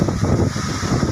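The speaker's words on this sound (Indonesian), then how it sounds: "angin sangat keras nih guys." Strong wind in an open rice field on Sumatra buffets the microphone with loud, continuous low rumbling and roaring gusts.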